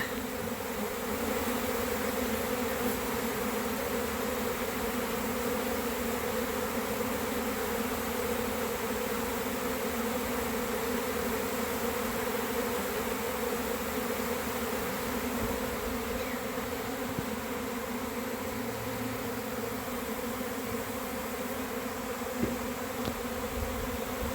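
A swarm of honeybees leaving the hive fills the air with a dense, steady buzzing drone. It stays loud and close without a break and no one speaks.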